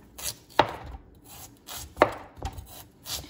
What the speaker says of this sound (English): and then you just chop like this